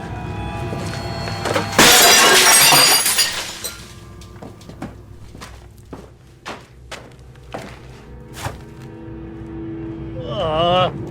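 Window glass shatters loudly in a sudden crashing burst as someone jumps through it, followed by scattered thuds, clinks and footsteps, with a voice heard near the end.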